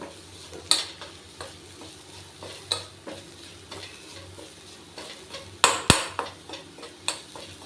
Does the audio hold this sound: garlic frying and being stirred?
yes